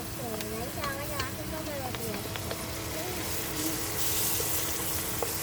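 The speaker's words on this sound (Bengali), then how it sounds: "পেঁয়াজ ভাজার যুদ্ধ চলতেছে" Onions fry in hot oil with a continuous low sizzle and crackle beneath a nearby person talking, with occasional clinks and stirring sounds during cooking at a night picnic.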